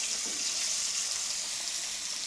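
Kantaki pieces drop into hot oil and fry with a bright, steady hissing sizzle, close and continuous, with no voices over it.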